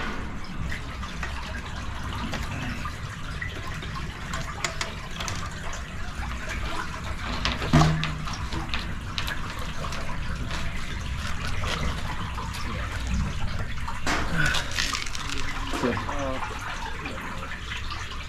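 Water gushing and trickling steadily through a cleared 50 m sewer drain after high-pressure jetting, a continuous wet rush with people talking over it.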